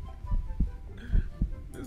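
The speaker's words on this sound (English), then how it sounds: "I hear heart beating." Heartbeat effect from the Roblox ghost-hunting game Specter, a steady run of low, soft thumps about every half second, close and alone with no talk over it.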